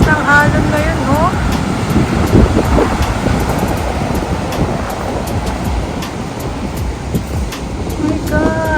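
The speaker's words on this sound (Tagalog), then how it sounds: "Ang lakas ng alon ngayon" Strong sea waves surging and washing onto a beach, a continuous roaring wash close by with wind noise on the microphone, and a few brief squeaky tones at the start and end.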